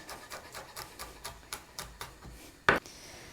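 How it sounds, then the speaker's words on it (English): A knife taps in a quick run of light chops on a cutting board while finely chopping smashed, peeled garlic, ending in one sharper, louder knock, close and with no speech. "Give it a nice smash, peel off the skin, and then chop it up finely."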